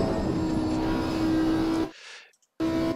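Race car engine in Assetto Corsa Competizione at Oulton Park, a loud steady drone with a sustained tone that cuts off abruptly, then returns after a short gap.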